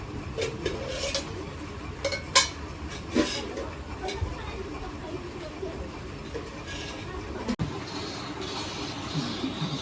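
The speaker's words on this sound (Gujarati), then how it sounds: "વાસણ ઘસવાના" Dishes and utensils being scrubbed by hand, with intermittent clinks and scraping of metal ware while people talk nearby.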